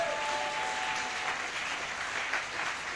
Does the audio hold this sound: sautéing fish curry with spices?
no